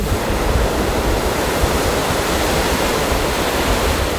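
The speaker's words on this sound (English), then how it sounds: "The incoming waves will wash away the evidence" Ocean waves washing up onto a sandy beach, a steady broadband roar of surf that holds at even loudness for the whole stretch, with no voices.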